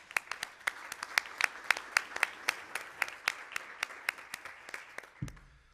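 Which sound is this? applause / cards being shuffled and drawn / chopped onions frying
applause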